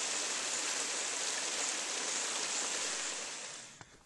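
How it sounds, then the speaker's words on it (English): Laurel Creek rushing across a trail crossing on a summer Appalachian Trail run: a steady broadband wash of flowing water, close and constant, easing off slightly near the end with a brief knock. "Stream crossing here. This is Laurel Creek."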